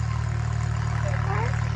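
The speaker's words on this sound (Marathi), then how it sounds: "ते बघा, ट्रॅक्टर आला" Tractor engine idles close by with a steady low throbbing rumble during Diwali festivities, while voices talk faintly over it.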